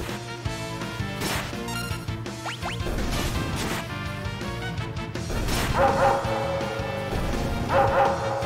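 Dog barking in the Final Fantasy VI video game, a run of short yappy barks amid game sound effects and a crashing impact, fairly loud and close, with no speech.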